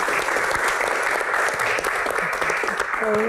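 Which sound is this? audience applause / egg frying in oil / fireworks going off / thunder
audience applause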